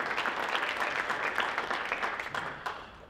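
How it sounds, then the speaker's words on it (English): Audience at an annual general meeting applauds regional leaders as they are named, a dense, steady patter of clapping lasting a few seconds at moderate level. "You can applaud for all of them."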